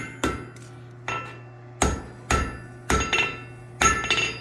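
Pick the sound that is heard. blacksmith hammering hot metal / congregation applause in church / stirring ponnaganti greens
blacksmith hammering hot metal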